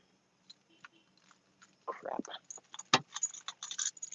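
Keys jingle and clink in short bursts close by, with faint rustling and handling noises around them.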